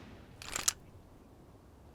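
A smoothbore flintlock musket fires at close range, about 10 meters from a target: a sharp crack with a brief burst of noise, followed moments later by another short, loud report.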